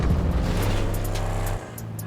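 A car in the game GTA, released to roll off a high mountain, rumbles with a steady loud engine and road drone that drops abruptly near the end.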